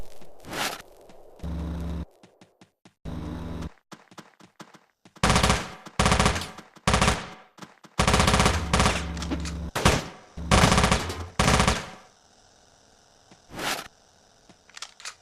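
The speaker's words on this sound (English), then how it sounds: "it's entirely debatable if the tri-nailgun or even the nailgun is worth investing into" Nailgun fire in the video game Teleglitch: rapid bursts of sharp, punchy mechanical shots in irregular clusters separated by short silences, loud and close, ending in a fainter electronic hum with one last shot.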